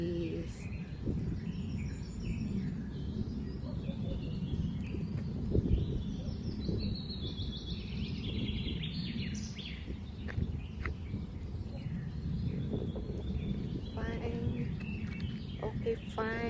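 Birds chirp and trill in the hills of Tagaytay among trees, scattered high calls over a low outdoor rumble, faint and somewhat distant, with insects buzzing softly in the background.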